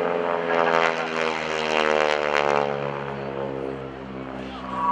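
A single-engine propeller aerobatic plane performs at the NAS Oceana airshow, its engine a strong, buzzing harmonic drone that holds steady, then gradually drops in pitch and eases slightly in loudness as it passes.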